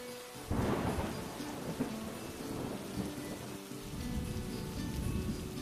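Steady rain falls throughout, with a low rumble of thunder rolling in early on and fading back into the constant downpour.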